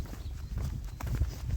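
Horses' hooves clip-clop on the ground in a French village area with many horses, a steady uneven patter of low knocks, fairly close and continuous.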